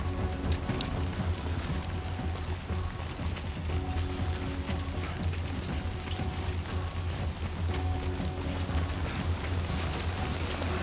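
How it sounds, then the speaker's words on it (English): Rain in the video game Death Stranding 2, a steady, dense patter of drops hitting surfaces that holds at an even level throughout, with a low rumbling bed beneath and no talk. "Oh, it's getting heavier."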